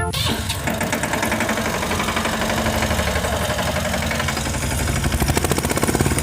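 A John Deere or Ford tractor engine runs loud and close, idling with a steady knocking diesel chug that holds even throughout, with no voices over it.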